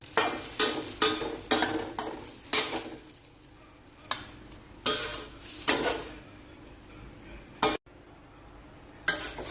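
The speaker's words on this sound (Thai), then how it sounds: "ไข่ข้างล่างสุกแล้วนะคะ เราก็คนนะคะ" Eggs being stirred in a frying pan, with repeated scraping strokes of a utensil against the pan in an uneven rhythm over a faint sizzle, close and clear, without talk.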